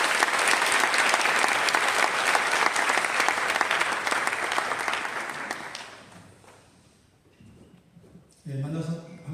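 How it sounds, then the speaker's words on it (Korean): A church congregation applauds to welcome a guest preacher, a loud, dense burst of clapping that fades out after about six seconds, followed by quiet room sound and a speaker beginning to talk near the end. "박수로 환영하시겠습니다"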